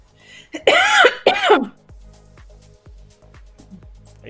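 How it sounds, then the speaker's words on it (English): Two harsh, close coughs come in quick succession from a person with a cold-weather cough, followed by quieter rhythmic clicking sounds in the background. "I get this silly cough when it's a bit cold"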